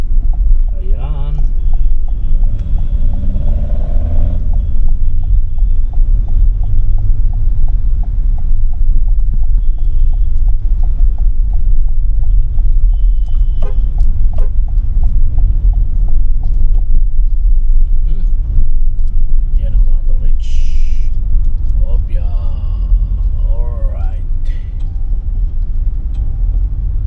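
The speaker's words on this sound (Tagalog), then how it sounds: "Traffic, more traffic." Road traffic rolls past during a motorbike ride, a steady loud rumble of engines and tyres with wind buffeting throughout and occasional faint horns and talk.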